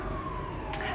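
A siren wails faintly in the distance, its tone sliding slowly under a low background rumble.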